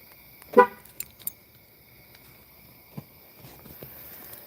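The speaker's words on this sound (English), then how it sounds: "Lock this vehicle." A Nissan car's horn gives a short chirp as the vehicle is locked with the key fob outdoors, followed by a few faint clicks and quiet background noise.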